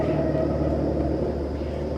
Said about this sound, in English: Can hear all that traffic noise.